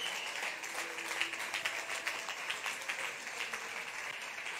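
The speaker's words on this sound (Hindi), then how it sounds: "विश्वास में ताली बजाइए।" Many members of a church congregation applaud together, a sustained wash of clapping with scattered sharper claps, fairly quiet and heard from a distance, with faint voices underneath.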